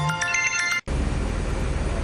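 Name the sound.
mobile phone ringtone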